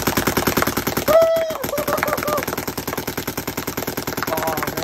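A custom anodized Bob Long Naughty Dogs Intimidator paintball marker fires rapidly outdoors in freezing weather, giving a continuous fast string of sharp, evenly spaced pops throughout, close and steady.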